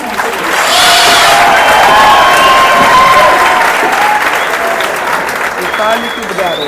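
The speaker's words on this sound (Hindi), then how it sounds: "ताली की बजा रहे हैं, ताली की बजा रहे हैं बच्चे।" Children clapping together at an 18th wedding anniversary celebration, a loud, dense burst of applause that swells and holds steady with some cheering mixed in.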